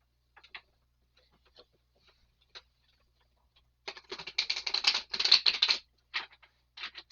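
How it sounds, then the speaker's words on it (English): Tarot cards being shuffled, scattered soft clicks at first and then a dense burst of rapid riffling flicks, close and crisp against silence. "Let me shuffle the cards."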